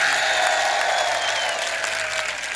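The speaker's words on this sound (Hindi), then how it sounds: "एक बार जोरदार ताली करौली प्रशासन के लिए।" An audience at a public poetry gathering in Karauli, India, breaks into loud, continuous applause, a dense wash of clapping that holds steady throughout with crowd noise mixed in.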